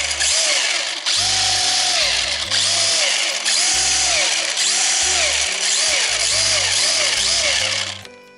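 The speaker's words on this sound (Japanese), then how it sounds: "ギア周りちょっと音が鳴ったりしますし" A Tamiya TT01 shaft-drive RC car's gears and differential whir loudly and close by, a continuous motor whine with repeated rising and falling pitch sweeps and scraping, running about eight seconds before cutting off.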